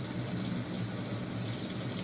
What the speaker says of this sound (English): When we press the start pause button a third time, that started our cold water valve.